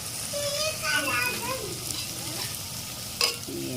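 Rice masala with chili powder is stirred and fried with a spoon in a pan, a steady close sizzle with scraping stirs and a sharp clink near the end, while voices sound faintly in the background.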